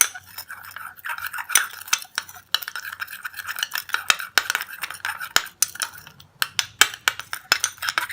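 Glycerin and sandalwood powder being mixed into a homemade lotion in a small bowl, giving light, irregular clinks and scrapes of a spoon close by, with no talk.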